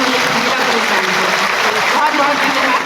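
Loud, sustained audience applause at a Delhi Police event ahead of Independence Day, a dense burst of clapping lasting about three seconds, with a voice faintly mixed in.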